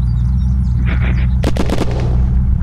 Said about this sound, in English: Crap, he's shooting at me.